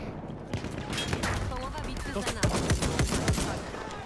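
Gunfire in the first-person shooter Battlefield 1 crackles as a dense, continuous battle din, with repeated sharp shots and bursts layered over loud background combat noise.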